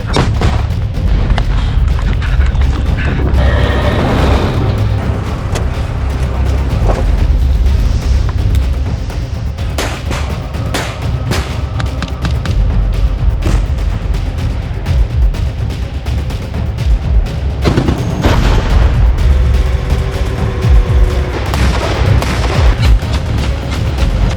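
Heavy booms and blasts of artillery gunfire roll through a loud, constant noisy background, with sharp cracks scattered across the scene.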